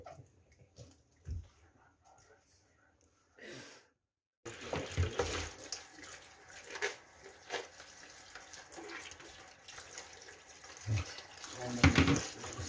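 Tap water runs into a sink during washing, a broadband splashing stream that starts partway through and continues with uneven surges, preceded by quiet clatter and faint background sounds.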